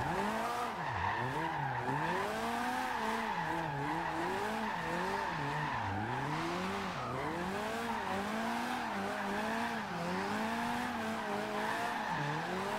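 Continuous tire squeal from a 2016 Mazda MX5 drift build sliding sideways in Forza Horizon 2, wavering in pitch as the angle changes, layered over a steady engine drone without pause.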